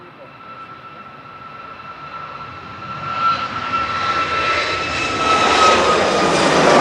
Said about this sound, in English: Ryanair departing to Trapani, flight 9046. It's MAX 8